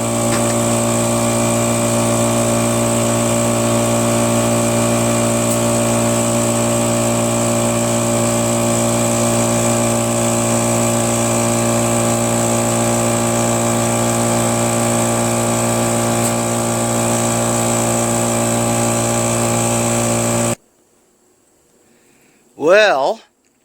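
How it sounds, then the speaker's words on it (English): Steady, loud motorized drone of an air pump inflating a low tire on a Cub Cadet MTD lawn tractor with a Briggs 13.5 flathead, running unbroken for about twenty seconds, then cutting off before a voice speaks briefly. "First I'm going to pump up that tire"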